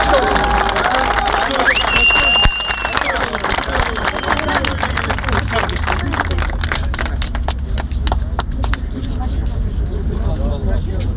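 Audience applause at a Volkswagen fun club ceremony, a dense burst of clapping that thins into scattered claps, with a crowd murmuring underneath.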